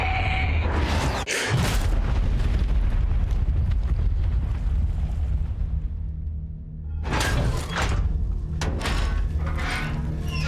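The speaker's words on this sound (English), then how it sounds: "we see some soldiers blast the location of the tank, which initially looks like it's going to take out Bess" Artillery shells blasting a tank in the World War I shooter Battlefield 1, a loud rumbling explosion with long low roar and debris, then further sharp bursts near the end, heavy and close.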